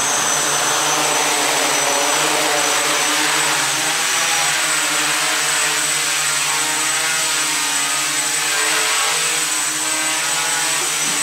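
An AeroSky quadcopter's spinning propellers give a loud, steady high-pitched whine with a buzzing drone as throttle is applied to hover, continuous throughout and close by.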